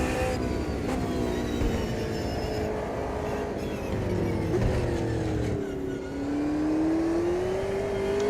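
A race car engine in Automobilista 2 at Monza drones steadily at high revs, its pitch sliding down and then climbing again through a gear change, continuous and close with no talk.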